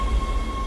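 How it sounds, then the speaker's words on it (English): Tram rumbling into a station in the Dead Space video game, a steady low mechanical drone with a sustained hum, loud and continuous with no talk. "Tram arriving at flight deck station."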